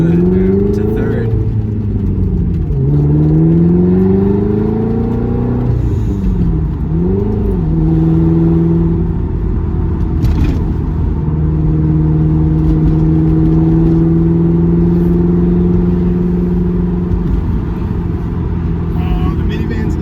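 A 1997 Lotus Esprit V8 twin turbo accelerates hard, its loud, close engine note climbing in pitch through the gears and dipping at each shift, with voices talking over the steady roar.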